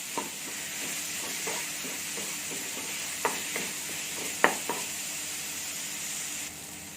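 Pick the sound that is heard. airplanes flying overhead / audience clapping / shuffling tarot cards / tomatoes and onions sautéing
tomatoes and onions sautéing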